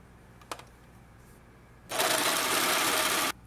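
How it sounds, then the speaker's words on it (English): A sewing machine stitching seams down at the armpits of a garment runs in one steady, dense burst for about a second and a half after a faint tap, close and fairly loud. "I'm just about finishing up sewing the seams down on both sides of the armpits"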